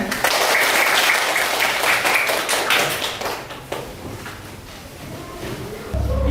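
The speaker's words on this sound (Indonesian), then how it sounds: "Tepuk tangan untuk temannya." Schoolchildren in a classroom clap for a classmate, a dense, lively round of applause that gradually thins and softens, with a few scattered taps and thuds near the end.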